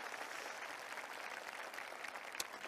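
An audience at a Seongnam city talk concert and citizen budget festival applauds the city hall civil servants, a faint, steady patter of many hands clapping.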